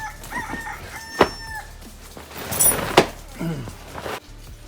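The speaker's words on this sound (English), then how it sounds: "Gonna have to put some more chicken clucking in." A rooster crows and chickens cluck in short bursts, with scattered knocks and rattles in the background.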